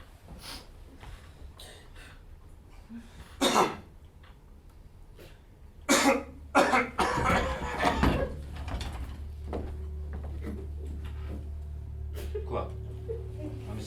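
Comic stage sketch with a person coughing in short bursts, including a loud cough mid-clip and a cluster of harsh coughs, amid other people talking and rustling.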